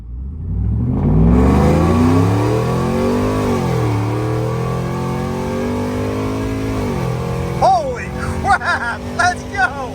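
A supercharged Chevrolet Silverado truck engine roars at wide open throttle, revving up through the gears with audible shifts as the pitch climbs and drops, loud and close, with excited voices shouting near the end.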